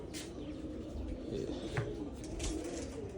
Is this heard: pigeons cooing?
yes